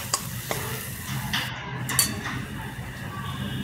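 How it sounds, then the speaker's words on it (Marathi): Spice masala with red chilli powder and turmeric sautés in a pan for spinach kofta gravy, soft sizzling under scattered spoon scrapes and light metallic clinks, close and fairly quiet. "सगळे मसाले असे चांगले परतून घेतले."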